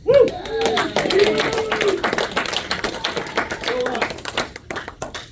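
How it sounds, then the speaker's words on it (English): A small group claps and cheers in scattered applause, with voices calling out over the patter of hands. "You all deserve your own round of applause"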